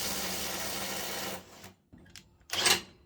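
A bolt torqued to 350 Nm is loosened by a tool that gives a steady, close mechanical rattle for over a second. It then stops and is followed by two brief, sharper bursts.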